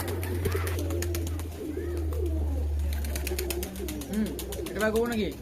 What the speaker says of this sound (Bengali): এখন সব কবুতর ছাড়া আছে বিকালের সময় এদেরকে খেতে দিচ্ছে